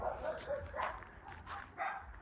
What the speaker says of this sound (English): Breeds dogs and just lets them bark and bark and bark and bark